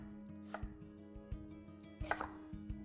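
A knife chops celeriac into small pieces on a board, a series of crisp, close thuds in an uneven rhythm, about a dozen strikes with short gaps, alone without talk.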